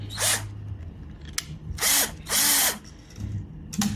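A power drill fitted with a winder whirs in several short bursts while winding acoustic guitar strings, each spinning up and winding down, loud and close, with brief pauses and clicks between.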